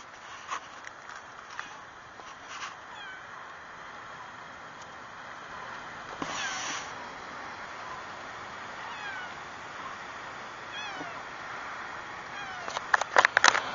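A cat meows a few times, fairly faint amid quiet background rustling and a few light taps near the end.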